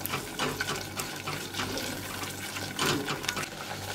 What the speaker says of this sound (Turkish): Un yeterince kavrulduktan sonra 1 litre sütü yavaş yavaş içerisine ilave ediyorum.